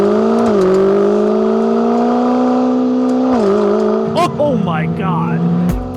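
A Lamborghini hybrid sports car in sport mode revs hard, its engine note climbing loud and close through a couple of gear changes, with a voice exclaiming over it.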